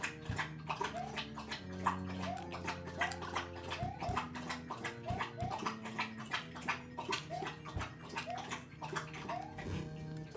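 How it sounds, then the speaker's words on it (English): A dog named Smokey laps water from a bowl, making rapid rhythmic slurping splashes that repeat steadily and close by, with faint game music underneath. "And he's now having a drink of water."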